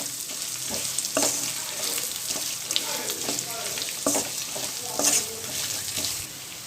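Sliced coconut sautés in a pan with chicken for a Pallipalayam chicken fry, producing a continuous close sizzle broken by repeated spatula scrapes and clinks at a moderate level.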